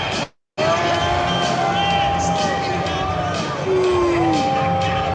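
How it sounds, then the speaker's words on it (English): Large stadium crowd at the BET Awards booing Fat Joe, a dense, sustained roar of voices filling the space, briefly cut off near the start and then continuing loud and unbroken. "you see how they was booing the shit out of him"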